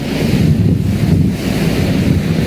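Rough sea in the Drake Passage roars steadily with heavy wind buffeting the microphone on a ship's bridge, a loud, continuous rumbling wash of waves, spray and gusts with no voices.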